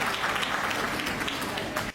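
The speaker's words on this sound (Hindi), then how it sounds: "मैं चाहता हूं आप अपने सम्मान में एक बार जोरदार तालियां बजाइए" Loud, dense applause from an audience at a Hindi comedy poetry show, sustained clapping filling the whole stretch before cutting off sharply near the end.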